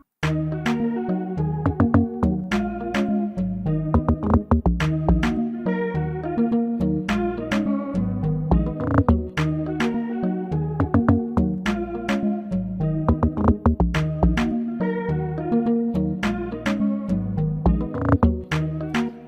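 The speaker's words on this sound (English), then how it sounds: "So the next thing was log drums." A dense afrobeat groove from a song remake, with deep, pitched log drum hits bouncing in a repeating rhythm over percussion and melodic layers, loud and continuous.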